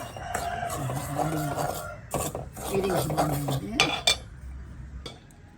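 Semolina (rava) is stirred and dry-roasted in a pan for a sweet snack, the spoon scraping and rasping against the metal in steady strokes, close and clear, with no voice present.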